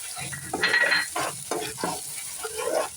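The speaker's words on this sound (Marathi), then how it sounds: "टोमॅटो कांद्याची प्युरी ते मिक्स करून घेणार आहोत" A spatula stirs tomato-onion puree in a sizzling pan for dum aloo, with several scraping strokes over a steady, close frying hiss.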